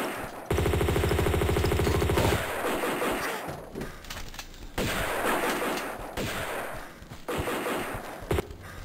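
Enemy gunfire crackles in the remastered action game Tomb Raider II, with a loud sustained burst followed by repeated bursts of shots and impacts in a shipwreck setting.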